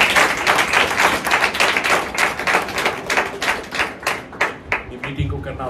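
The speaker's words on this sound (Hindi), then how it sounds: "एक जोरदार ताली बजाकर उस खुदा का" A church congregation at an evangelical meeting claps loudly and rhythmically for several seconds, the dense quick claps forming a steady beat and easing slightly near the end.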